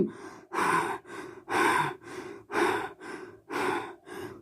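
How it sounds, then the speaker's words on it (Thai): Heavy, ragged breaths repeat in a steady rhythm, about eight loud gasping inhales and exhales close to the listener with no talking. "ในความมืดเสียงหอบหายใจที่หนักหน่วงดังขึ้น"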